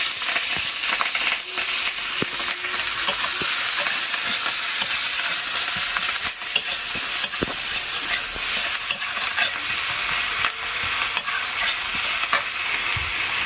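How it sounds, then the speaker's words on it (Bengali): Chopped onions and green chillies hiss in hot oil in a kadhai, a loud continuous sizzle broken by frequent scraping and tapping of a stirring spoon, heard close with nobody speaking. "কড়াইতে তেলটা গরম হয়ে গেছে, এবার পেঁয়াজ লঙ্কা দিয়ে দিই।"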